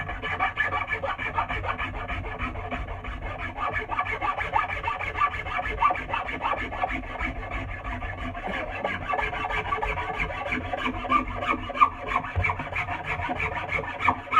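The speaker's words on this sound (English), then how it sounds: "the wood rasp." A wood rasp shapes a custom axe handle, giving continuous close, rhythmic rasping strokes of steel teeth scraping wood, with no talking.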